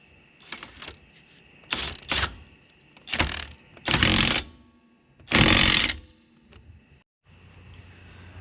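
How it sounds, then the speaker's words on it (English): Nut being threaded back onto a Nissan Sentra hub assembly during a DIY replacement, heard as a series of close, loud metallic ratcheting and clanking bursts separated by short pauses. "so let's go ahead and put our nut back on here."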